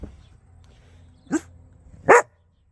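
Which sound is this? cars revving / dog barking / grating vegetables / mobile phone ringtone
dog barking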